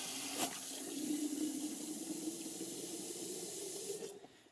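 Water rushing from the flush valve of an AquaOx water filter into a glass, a steady hissing stream that runs for about four seconds before tapering off, fairly faint.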